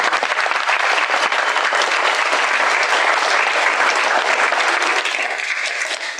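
An audience applauds at a commencement ceremony, dense, loud and sustained clapping that fades slightly near the end, with no talk over it.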